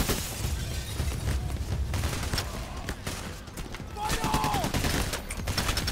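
Gunfire in the video game Payday: The Heist, dense bursts of rapid shots rattling continuously throughout, with a brief booming burst near the end, loud and crowded.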